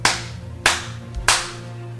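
A head beaten against a passport: three sharp, close slapping thumps, about 0.6 seconds apart, each with a short papery decay, with no speech.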